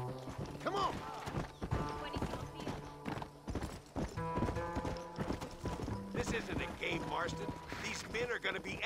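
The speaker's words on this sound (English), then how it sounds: "I'm ready as soon as this horse figures out how to fucking walk." Horse hooves clip-clop at a walking pace in Red Dead Redemption, mixed with game music, a brief whinny and someone talking over it.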